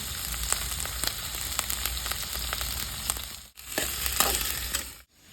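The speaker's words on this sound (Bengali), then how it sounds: "হালকা ভাজি নেবো চিরা লঙ্কা দিচ্ছি পাঁচ ছটা আর আট দশটা কাজু দিয়েছি" Green chilies and cashews fry in a pan alongside lightly fried, thickly cut onions, giving a steady close crackling sizzle with stirring scrapes, a brief break near the middle and a drop-off at the end.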